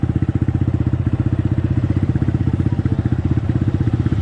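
A CX250R motorcycle engine with a bad misfire runs close and loud in an uneven, rapid chugging pulse with irregular stumbles throughout.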